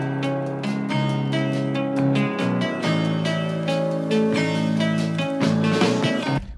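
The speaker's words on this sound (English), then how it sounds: "I simply just cut the four bars, I pitched it down, and now it sounds something like this." A song sample cut to a four-bar loop and pitched down plays alone, with deep sustained tones under a steady pulse of sharp attacks, fairly loud.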